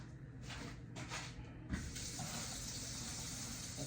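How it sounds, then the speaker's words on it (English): Tap water runs steadily into a kitchen sink while spinach is washed under it, a continuous close gush with a few faint knocks and clatters in the first two seconds. "I have to wash my spinach."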